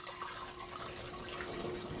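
Mint sweet tea poured into a canning jar fitted with a filter, a steady close liquid trickle and splash running continuously with no talk.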